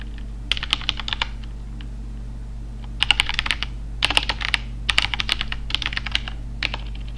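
Someone types on a computer keyboard close by, with bursts of quick clattering keystrokes separated by short pauses over a constant low electrical hum, and nobody speaking.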